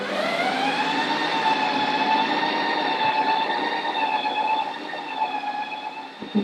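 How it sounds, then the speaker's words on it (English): Ninja Creami ice cream machine running its mix cycle, a steady close whirring motor whine with high tonal harmonics that slightly dips near the end, alone without speech. "Put it back in the machine, and then we just press the mix in button."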